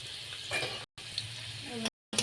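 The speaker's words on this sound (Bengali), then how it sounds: "তো আলুগুলো একটু নাড়াচাড়া দিয়ে ভেজে নিচ্ছে" Potatoes frying in a pan while being stirred, a close hissing sizzle with scraping movements, briefly cut off twice in the middle.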